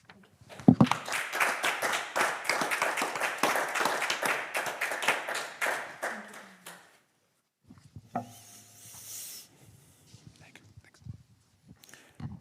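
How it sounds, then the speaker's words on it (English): Applause from the audience at a PhD defence, a burst of clapping that rises quickly, holds for several seconds and then stops, leaving quiet room sounds and faint murmuring. "the applause is for you."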